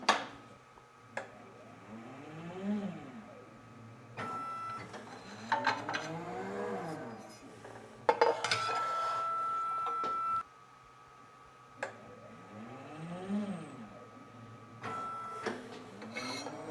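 A Langmuir Titan 25T hydraulic tube bender runs a bend, with repeated whirring mechanical strokes, clicks and a sustained hydraulic hum in short bursts separated by pauses, moderately close and fairly quiet.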